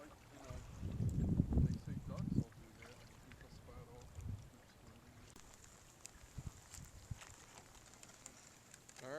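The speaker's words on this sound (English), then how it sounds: "kayaking on Christmas Eve." Kayaks out on cold water among snow on Christmas Eve: heavy splashing and hull thumps for the first couple of seconds, then quieter lapping water, scattered knocks and wind buffeting the microphone, with faint voices in the background.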